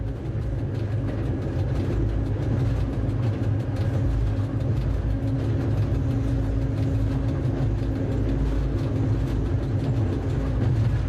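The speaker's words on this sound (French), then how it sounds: "notre mécano a tout coupé et le grondement du V16 s'est atténué" Deep, steady rumble of a diesel locomotive's V16 engine idling or running at a small rural station, a loud, even low drone that continues without a break.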